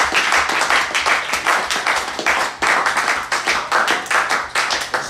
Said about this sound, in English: Let's give it a round of applause for them.